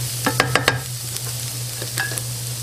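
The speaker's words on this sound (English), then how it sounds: "when you smell this, when you hear this sizzling, your meal is already amazing" Garlic sizzles softly in a pan under a steady low hum, with a few quick scraping stirs and clinks early on.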